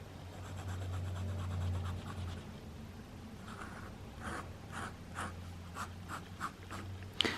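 Scratchy fountain pen tip writing on paper, a faint close scratching across the nib, then a run of short, distinct strokes as small circles or marks are drawn, with low background hum.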